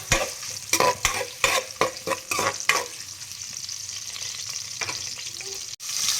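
Ginger sautéing in a pan alongside dried fish, onion and garlic, a close, steady sizzle with a quick run of rhythmic spatula scrapes and taps early on, then a continuous frying hiss.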